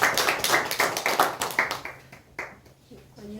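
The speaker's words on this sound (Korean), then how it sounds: "우리 박수하겠습니다." Hands clap in a quick, fairly loud burst of applause at a church Sunday service that thins out and fades, with a voice starting to speak at the end.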